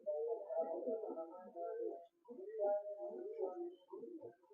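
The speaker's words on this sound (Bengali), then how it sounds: "প্রত্যেকটা পাখি ফুলশিরা লাইনের আন্ধ্রা পায়রা।" Andhra pigeons of the Phulshira line coo in soft, rolling phrases, close and fairly quiet, with a brief pause midway before the cooing resumes.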